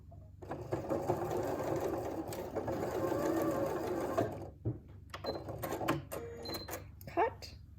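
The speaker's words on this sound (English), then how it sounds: "now I'm going to sew to the end of the fabric and do a back stitch" Domestic sewing machine stitching a fabric seam on a button-down shirt yoke, a steady close whirring run that ends with a short back stitch and a few clicks, with faint talk underneath.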